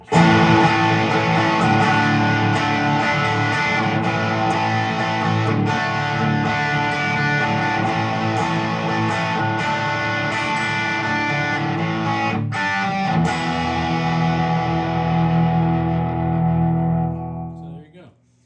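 An electric guitar on its bridge pickup played through a Dr. Z Prescription Rx amp: a dense, overdriven wash of strummed chords and sustained notes with a slight effects sheen, loud and continuous, then ringing out and fading at the end.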